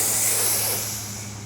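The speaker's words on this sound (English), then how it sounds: "Now the Coca-Cola when we open up some soft drink," A Coca-Cola soft drink bottle being opened gives off a steady, bright gas hiss that fades a little toward the end, fairly close and alone.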